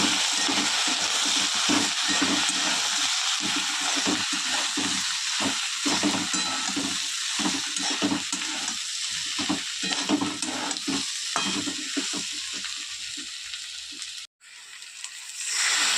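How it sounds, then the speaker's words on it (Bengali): Turmeric, chilli, cumin and coriander powder frying in a pan for a winter vegetable and prawn chorchori: steady loud sizzle under repeated scraping stirs, continuous and close, cutting off briefly near the end. "দিয়ে দেবো হলুদ লঙ্কা গুঁড়ো জিরে ধনে গুঁড়ো ভালো করে কষিয়ে"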